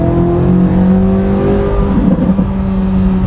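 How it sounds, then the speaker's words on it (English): A 2026 Corvette Z06 3LZ in sport mode revs its engine close by, giving a loud, sustained exhaust drone with rising and falling pitch and a burst of crackle partway through. "Let's get some more exhaust sound."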